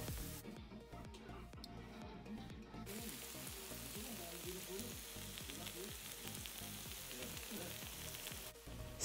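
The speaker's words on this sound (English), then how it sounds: "Place your Korean beef short ribs on a griddle or grill at home" Korean beef short ribs sizzling on a griddle at home, a steady close frying hiss with dense crackling spits and pops throughout, moderately quiet with no talking.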